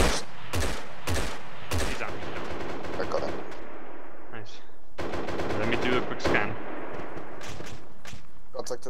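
Gunfire in ARMA 3 during a military firefight: repeated loud rifle and machine-gun bursts crack close by over several seconds, with radio chatter and voices underneath.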